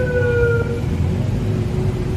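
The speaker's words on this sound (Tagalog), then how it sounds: "Fire truck." A fire truck siren wails on a Manila street, a loud, steady tone sweeping over rumbling traffic noise for the whole stretch, with no voices over it.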